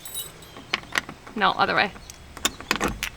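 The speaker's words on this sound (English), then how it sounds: "We do have a key, actually, I found in the house. It fits in the hole." A key jingles and clicks in the ignition of an old abandoned boat, with several sharp metallic rattles and a brief fumbling burst, close up as a voice speaks briefly.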